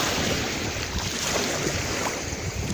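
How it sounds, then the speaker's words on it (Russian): Steady, loud sea waves wash continuously at a resort beach in Anapa, with a full, unbroken roar and some wind buffeting on the microphone. No one speaks. "Вот оно и море. Море на просторе."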